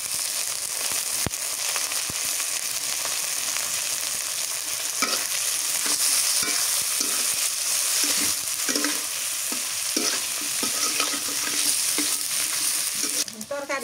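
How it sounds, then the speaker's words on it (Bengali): Dried fish fries in hot oil with a steady, dense sizzle and crackle, punctuated by occasional scrapes and stirring clatters, close and loud throughout with no talking. "শুটকিতে ভাইজে নেই তেলে।"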